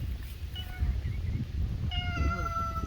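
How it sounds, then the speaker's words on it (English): A pet cat meowing close by, a couple of short mews then a longer, louder drawn-out meow, over rustling outdoor background noise near chickens. "This is my mother-in-law's cat"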